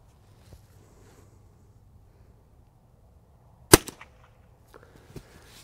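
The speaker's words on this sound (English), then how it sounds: "That sounds like a cap gun." .22 Short round fired from a .22LR rifle at an outdoor target range, a single sharp, quiet crack like a cap gun, followed by faint clicks and handling noise in an otherwise still setting.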